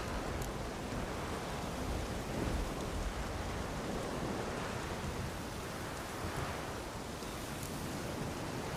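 Steady heavy rain and thunderstorm rumble in The Witcher 3: Wild Hunt, set in Skellige, a dense continuous broadband downpour with low rolling thunder swelling underneath, no voices.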